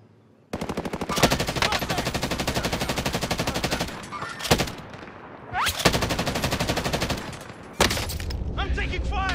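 Long sustained bursts of rapid automatic gunfire in Call of Duty Warzone, loud and close, broken by a few short pauses before the firing resumes.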